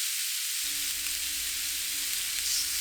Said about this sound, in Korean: 베이컨이 노릇하게 익으면 양파를 넣고 양파가 투명해질 때까지 1분 정도